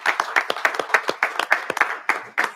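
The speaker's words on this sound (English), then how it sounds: "I would like us to all give you a round of applause for your service this year" A round of applause breaks out in a state House committee hearing room, with a small group clapping in quick, uneven, loosely spaced claps that carry on for a couple of seconds without speech.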